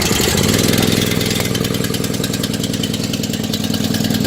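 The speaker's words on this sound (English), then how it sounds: "So the next thing to do is to start the engine by pulling the handle." A small engine is pull-started and then runs with the choke on, a loud and steady but slightly rough drone that stays constant throughout.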